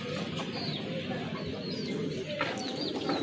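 Fancy pigeons coo softly nearby, several low repeated calls over a murmur of background room noise.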